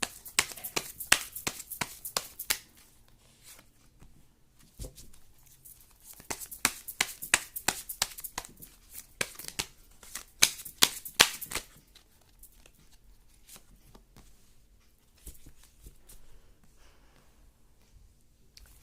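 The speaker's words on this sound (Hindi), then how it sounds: "कार्ड्स बहुत शफल कर रहे हैं।" Tarot cards being shuffled by hand, a run of quick crisp riffling taps and flicks, close and fairly quiet, coming in clustered bursts with brief pauses and no talk over it.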